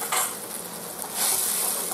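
Tomato puree made from three small tomatoes sizzles and gets stirred in a frying pan for a quick paneer dish, a steady close hiss with soft stirring scrapes that swell louder toward the end.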